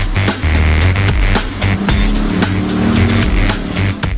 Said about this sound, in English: this Scorpion tears up the track with a hydrogen internal combustion system